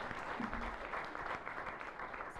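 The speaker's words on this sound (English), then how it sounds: "Can you have a big round of applause for them, please?" Sustained, steady applause from a symposium audience for a panel discussing the gender gap, a thick even wash of many hands clapping throughout, with no break or speech rising above it.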